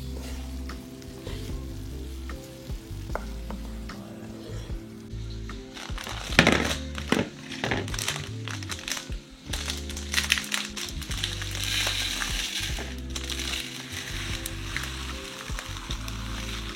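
Onions fry and caramelize in a pan with a continuous moderate sizzle, then a cluster of clunks and scraping stirs, and the hissing swells toward the end.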